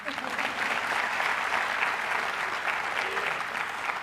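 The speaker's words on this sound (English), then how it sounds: "You can clap for that." Audience applause at a Coppin State University convocation keynote in 2024, a steady, dense clapping that holds at full strength for the whole stretch, with faint murmuring from the crowd mixed in.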